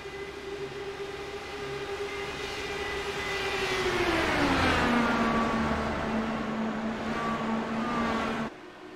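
Race cars roar down a track's backstretch running side by side, a loud sustained engine scream that swells and then drops in pitch as the pack sweeps past, with the sound cutting off abruptly near the end and no talking.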